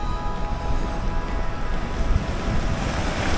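Sea waves wash steadily onto the beach at Charmouth, Dorset, a continuous loud broadband surf with wind rumble across the microphone, no voices.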